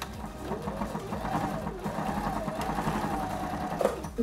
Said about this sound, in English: I will sew them together.